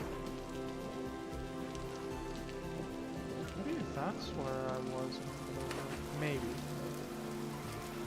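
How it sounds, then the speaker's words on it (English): Steady rain falls in the video game Vintage Story, a dense continuous hiss with soft patter throughout, while a person speaks briefly over it. "It's starting to rain."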